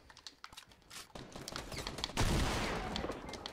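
Shotgun fire in the video game Fortnite Battle Royale, a loud burst of blasts that rises out of rapid computer keyboard clicking and carries on with rough noise.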